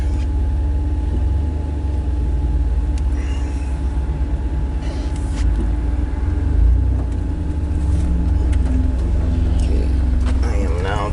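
A 2006 Jeep Wrangler with a 42RLE automatic transmission problem drives along, its engine and road rumble forming a loud, continuous low drone heard from inside the cabin.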